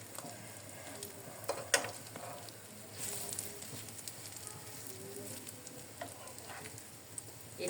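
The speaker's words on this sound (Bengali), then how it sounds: "আর আমি লো হিটে দিয়েই ভাজতেছি" A snack fries in a frying pan over low heat with a soft, steady sizzle and scattered small pops and crackles.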